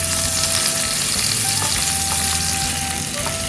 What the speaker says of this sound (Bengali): এই তেলের মধ্যে আবার তুমি সব মশলাগুলো ভাজতে থাকো।